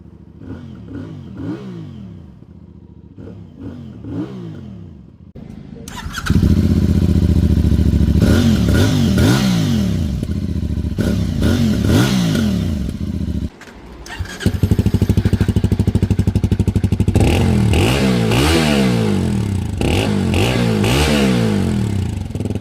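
A CFMoto CLC 250 motorcycle engine starts and idles, then revs hard and repeatedly toward redline with no soft limiter, loud and close with clattering mechanical noise between the bursts.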